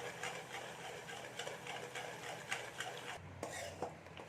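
Cow milk ghee stirred slowly in a pan, with soft scraping and faint clicks of a spoon against the metal over a low bubbling simmer, quiet and close.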